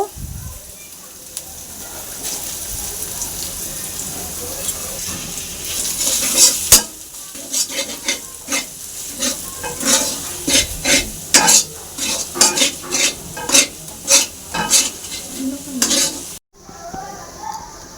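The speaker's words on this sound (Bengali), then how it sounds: "দেখুন এখন মশলাগুলি ভালো করে কষিয়ে নিয়েছি। এর মধ্যে এখন মটর পেস্ট করাটা দিয়ে দেব।" Spices for a pea keema fry in a pan with a constant sizzle, while a utensil stirs and scrapes against the pan in a loud, rhythmic series of clatters, close and prominent.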